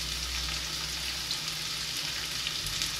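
Onion frying in a wok, a loud, steady hiss and crackle of sizzling oil that continues without pause and close by, with no talking.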